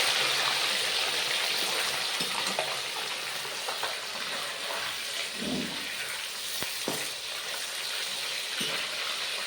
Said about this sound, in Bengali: দেশি মাছ, তেল আছে, তার জন্য মাছটা ফুটে উঠলো